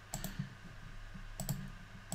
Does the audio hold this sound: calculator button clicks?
yes